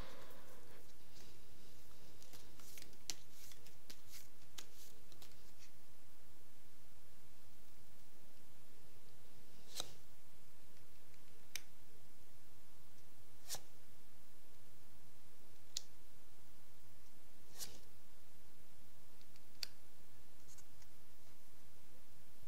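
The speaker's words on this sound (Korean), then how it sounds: "그럼 마지막으로 조언 카드 뽑아봅시다" Tarot cards are shuffled and drawn in a quiet room, with soft rustling and faint scratchy slides broken by several crisp, sharp card snaps spaced a few seconds apart, with no talking.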